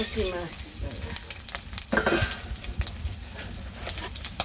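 Puti fish frying in a pan, a loud continuous sizzle and crackle with stirring scrapes close by, a brief burst of spattering midway, and faint voices in the background.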